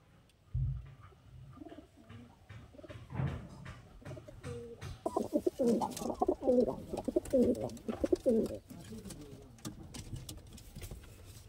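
Golden Rampuri pigeons cooing, a series of soft rolling coos close by, rising in the middle and repeated in rhythmic bursts over quiet background.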